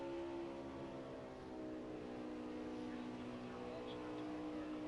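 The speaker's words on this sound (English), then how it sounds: "From the sound of the car, the way it sounds, it doesn't really seem like he's backing off a lot" Stock car engine droning steadily at high revs in a NASCAR Xfinity racing video game at Chicagoland, a continuous loud tone with no lift-off across the stretch.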